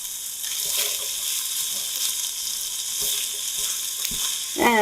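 Spam and onions hit a hot pot for chowder, giving a continuous close sizzle with a few soft scrapes and clinks of stirring, alone and without talk.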